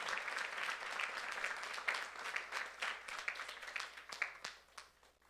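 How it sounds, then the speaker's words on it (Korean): Applause from a church youth service congregation, a moderate burst of hand clapping with distinct individual claps that gradually thins out and fades near the end. "박수 한번."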